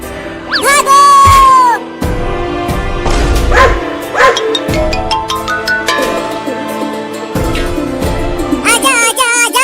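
Cartoon puppies bark and yip in quick repeated bursts, close and loud, amid animated voices and a busy soundtrack.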